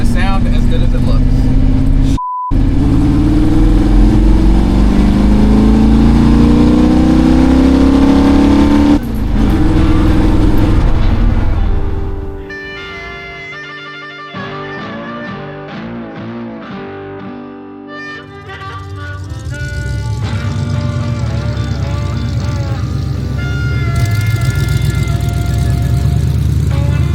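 A Jeep CJ-7, back on the road after ten years off it, revs loudly inside a barn, the engine note rising in long pulls, then settling into choppier revving and a steady rumble.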